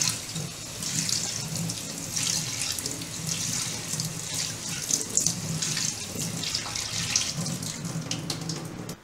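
Tap water runs steadily over chhena held in a cloth as it is rinsed for rasmalai, a continuous close splashing and gurgling under a kitchen faucet with no talking.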